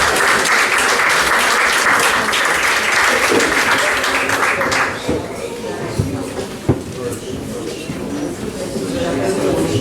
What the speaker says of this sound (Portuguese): O vosso aplauso,